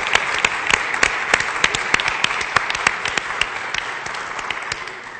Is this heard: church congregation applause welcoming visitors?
yes